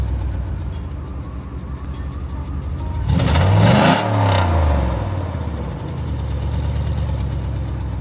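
A 1995 Cadillac Seville fitted with new mufflers idles with a low burbling exhaust, then revs up sharply once around the middle before settling back to a steady rumble, close and loud.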